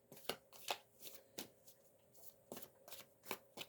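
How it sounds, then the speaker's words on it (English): Oracle cards being shuffled for a reading: a quick run of crisp, riffling card flicks and soft slaps, close and fairly quiet, in irregular bursts with no speech. "pull a few more cards"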